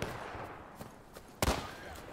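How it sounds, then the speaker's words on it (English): Scattered musket shots at a Civil War reenactment with infantry companies firing at will outdoors, mostly faint and distant cracks with one sharper, louder report near the middle. "There should be more shots being fired."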